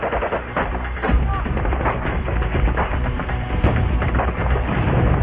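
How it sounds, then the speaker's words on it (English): Heavy gunfire rakes a Marine convoy driving past Baghdad University in Iraq, dense bursts and cracks running loud and continuous throughout, with voices mixed into the din. "a convoy of Marines comes under heavy fire while driving past Baghdad University"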